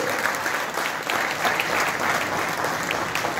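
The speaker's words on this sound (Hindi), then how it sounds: "एक जबरदस्त ताली बजाइए दोस्तों M+ के लिए" An audience at a business presentation event in Uttarakhand claps steadily and loudly for several seconds, a dense, continuous wash of applause with no voices over it.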